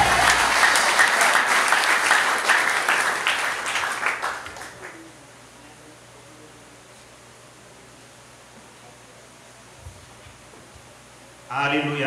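A church congregation applauds loudly for several seconds, the clapping fading out into quiet room tone before a brief burst of clapping returns at the end.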